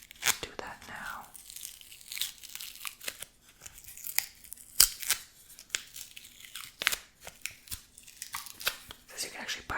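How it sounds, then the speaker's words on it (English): A sticker is peeled off the back of a 3D lenticular travel coaster, giving crisp tearing and crinkling bursts close to the microphone, soft and intermittent, with a quiet whispering voice around them. "I've yet to peel the sticker from the back of it, so I might go ahead and do that now"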